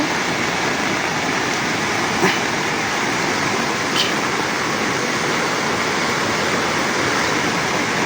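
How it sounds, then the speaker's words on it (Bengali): Floodwater pours through the Teesta Barrage sluice gates in a loud, unbroken roaring rush that stays constant throughout, with no voices. "তিস্তা ব্যারেজের জলকপাট দিয়ে বেরিয়ে যাচ্ছে, হু হু করে কিন্তু পানি বেরিয়ে যাচ্ছে"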